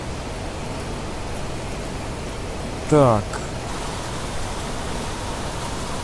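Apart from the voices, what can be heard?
rain falling in the video game The Planet Crafter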